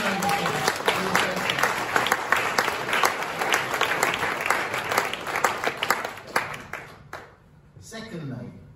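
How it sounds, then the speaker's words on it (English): An audience applauds program associates at a startup cohort showcase: loud, dense clapping that runs for several seconds, then thins and drops off sharply near the end, leaving a quieter tail. "Can we please get a few round of applause?"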